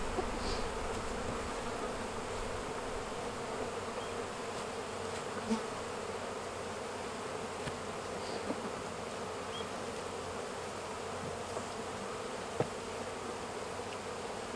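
Honey bees buzz steadily around a hive during queen rearing work, a dense, continuous drone close by with occasional louder passes of individual bees and no talking.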